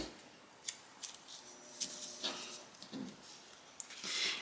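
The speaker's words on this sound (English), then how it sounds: "Once I do that, I'm just going to tape it" Tape pulled and pressed onto crinkle fabric for a baby book, with several sharp crackling tears and rustles spread across the clip, close and fairly quiet, ending in a longer crinkly rasp.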